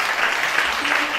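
A church congregation applauding during a sermon, a brief dense burst of clapping that fills the room evenly.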